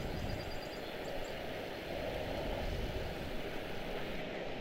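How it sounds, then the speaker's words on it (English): Airplanes arriving at Charlotte Douglas airport give a steady, broad engine roar that holds at moderate loudness with no gaps. "a lot of arrivals making their way in right now"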